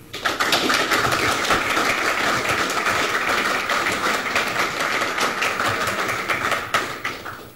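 Loud, sustained applause from a large crowd at a Haitian football celebration for Cavaly of Léogâne, dense clapping running unbroken and close throughout.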